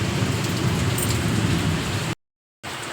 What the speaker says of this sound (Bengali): কি বিভৎস বৃষ্টি পড়ছে আজকে